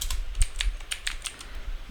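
Quick, light clicks of a computer keyboard as a package install command is typed, a brief uneven run of keystrokes close up with no talk.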